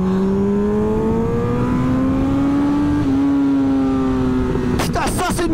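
A Kawasaki ZX10R superbike engine accelerating hard, its tone climbing steadily through the gears in a loud, close, continuous drone, ending in a burst of rattly noise.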